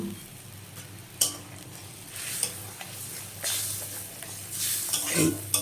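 A pointed gourd and paneer curry sizzles and bubbles in a pan after water is added, with sharp spatula scrapes and clinks against the pan at intervals; fairly quiet and close, with no voices.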